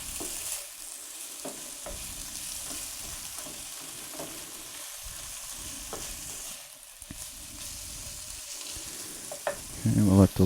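Chicken pieces browning in a pan for fettuccine Alfredo, a soft continuous sizzle with occasional stirring taps and a louder clatter near the end, no talking.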